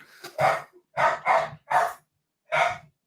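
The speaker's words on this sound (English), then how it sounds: "Oh, dogs are freaking out." Dogs bark nearby, five loud hoarse barks in an uneven rhythm with short silent gaps, no talking over them.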